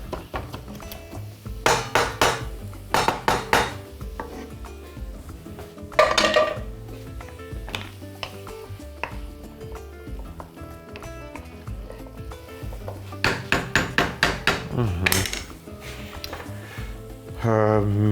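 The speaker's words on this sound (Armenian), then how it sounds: "Ընթացքում կարելի է սիսերը ամբողջը չէ, որոշ մասը տրորել։" Cooked chickpeas being partly mashed in a pot for a shepherd's pie, with bursts of rapid clattering knocks of utensil against cookware separated by quieter stretches, close and fairly loud.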